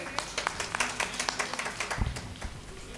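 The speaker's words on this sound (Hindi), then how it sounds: "तालियों से स्वागत करिए" An audience at a Hindi poetry gathering in Sambhal claps to welcome a poet, a brisk patter of scattered hand claps of moderate loudness that thins out toward the end, with no voices over it.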